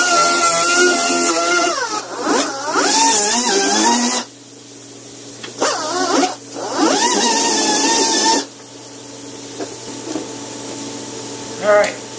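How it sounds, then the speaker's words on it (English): A die grinder cuts a V-groove into a damaged tire part ahead of TIG welding, giving loud high whining bursts that rise and fall in pitch, with pauses between cuts. "I'm going to use a die grinder and V this out a little bit"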